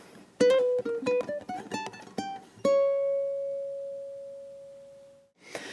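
Ukulele picking measures 31 to 32 of a gypsy jazz waltz melody: a quick run of plucked single notes jumping between pitches, ending on a held note that rings and slowly fades, then a brief new strum at the end.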